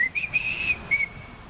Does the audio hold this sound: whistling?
yes